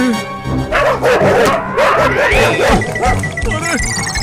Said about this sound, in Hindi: ये कुत्ते कहाँ से पीछे पड़ गए?